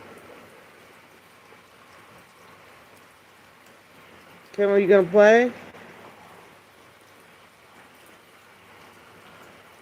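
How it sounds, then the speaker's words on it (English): Steady rain falling outdoors, a soft, even hiss of drops throughout, briefly interrupted midway by a short spoken question from a person. "Oh, the rain woke me up"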